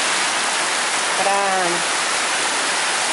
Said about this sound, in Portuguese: Ai, uma chuvinha abençoada